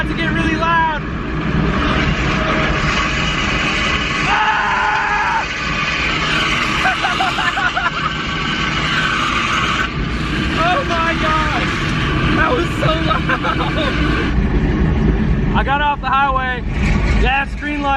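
A car driven on a bare wheel rim with no tire grinds and rumbles loudly and continuously, a harsh metallic scraping under traffic noise while people talk throughout.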